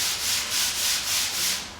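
A hand rubbing back and forth across coarse, dull automotive paint, producing a loud, close raspy swish in regular strokes, about four passes with no talking.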